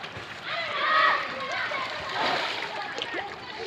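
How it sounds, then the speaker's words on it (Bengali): Tilapia splash at the surface of a large farm pond as they are fed, producing a few watery splashes and sloshes beneath people talking nearby. "তেলাপিয়া মাছের ঘাই"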